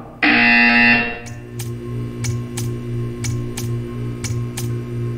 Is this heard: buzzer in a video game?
yes